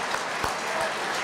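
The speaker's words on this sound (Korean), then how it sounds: "여러분 박수 한번 해서 서로 간에 격려해 주십시오" Brief applause from attendees at an alumni association New Year gathering and general meeting, a dense, even patter of many hands filling the room for a moment.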